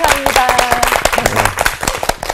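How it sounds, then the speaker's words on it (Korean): A small Bible-study audience gives brief, loud applause, the claps crisp and close, with voices talking over it. "친구 박수로 한번."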